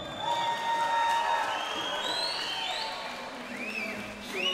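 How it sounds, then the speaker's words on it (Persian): Crowd at a fight night event applauds and cheers after a bout ends, with whoops and voices rising over steady clapping, while a person talks throughout. "تشویقش بکنید دوستا"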